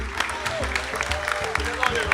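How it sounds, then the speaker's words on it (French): A live audience at a game event applauds the game master, steady loud clapping mixed with crowd voices and cheering throughout. "Un tonnerre d'applaudissements pour notre MJ."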